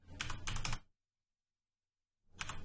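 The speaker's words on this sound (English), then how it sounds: "I'm going to type in U" Close, rapid keystrokes on a computer keyboard while entering C++ code in Unreal Engine 4, a dense burst of clicks that stops into silence and then starts again.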